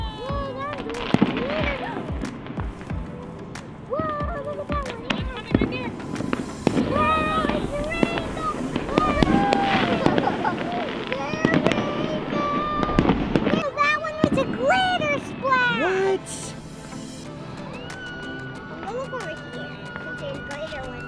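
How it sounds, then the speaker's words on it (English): New Year fireworks bursting outdoors in a long run of pops and bangs, mixed with excited voices of onlookers talking and shouting throughout. "Fireworks. Fire. Whoa, look at that one. It was a big one."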